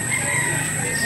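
A chicken calls out in a brief, steady, nasal cry, fairly clear against a faint outdoor background.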